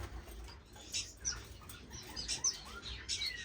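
A small male finch in an indoor bird room sings in short, high chirps and twitters, spread in several quick bursts over a faint background hiss.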